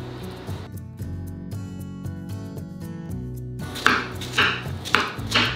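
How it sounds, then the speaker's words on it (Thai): A knife chops a halved, seeded bitter melon into chunks on a cutting board, with a series of close, crisp knocks at first, then louder, heavier thuds toward the end. "เราก็จะหั่นมะระออกเป็นท่อนๆ"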